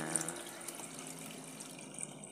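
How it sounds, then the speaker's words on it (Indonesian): Water is poured into a container while alkaline waste is processed to dissolve metal, giving a steady, fairly soft splashing rush with no voices. "tambahkan lagi airnya"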